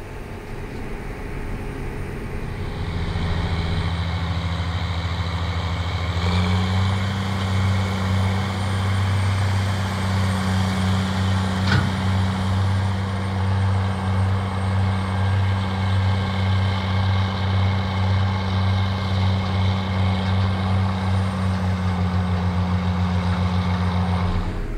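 A tractor pulls a hog manure applicator slowly across a field at about 2.9 mph while spreading through a drag hose, its diesel engine droning steadily and loud throughout, rising a little after the first few seconds with no speech.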